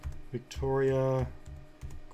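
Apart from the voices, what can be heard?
typing on a computer keyboard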